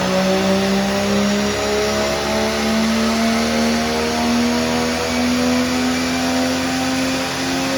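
BMW M3 engine on a dyno pulling hard under load, a loud steady roar with rising harmonic pitch across the run, close and continuous with no talk.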